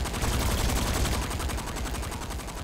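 Rapid automatic gunfire in the video game Saints Row IV, a dense, fast, continuous burst of shots that lasts the whole moment, loud and close with no talking.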